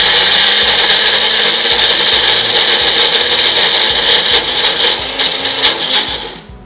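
Onions ground in a mixer grinder, a loud close whirring buzz with rattling that runs steadily for several seconds and then winds down.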